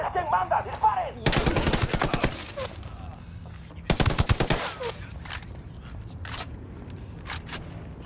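Bursts of automatic gunfire in Ghost Recon: two dense volleys of rapid shots, close and loud, then scattered single cracks, with no speech.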